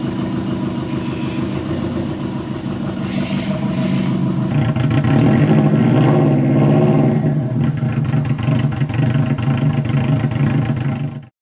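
A turbocharged Subaru Forester engine idles loudly nearby, then revs up with a rising whine around the middle before settling back to a steady idle and cutting off at the end.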